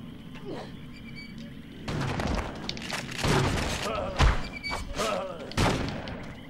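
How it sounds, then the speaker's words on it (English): Double barrel shotgun blasts in the BloodRayne video game, several heavy booming shots in close succession over a quieter game background. "The double barrel shotgun does a lot of decent damage."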